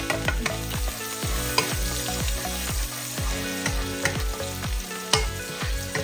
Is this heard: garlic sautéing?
yes